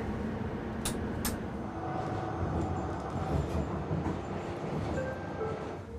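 A light rail tram rolls through the night with a steady low rumble of wheels on track, two sharp clicks early on and faint squealing tones near the end.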